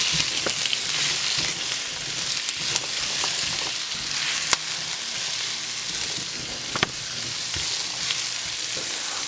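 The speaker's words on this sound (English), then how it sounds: "we saute it about 1 or 2 minutes. We need an onion saute light golden brown." Onions sauté to light golden brown in an Instant Pot, giving a constant dense sizzle with occasional crackles and stirring scrapes, close and steady throughout.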